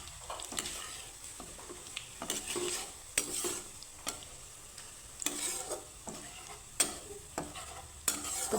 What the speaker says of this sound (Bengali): এখন আমি নাড়িয়ে চাড়িয়ে একটু লাল লাল করে ভেজে নেবো